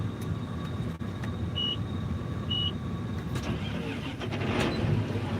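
An old tractor engine runs at a steady idle, a constant low rumble throughout, with two short electronic beeps partway through.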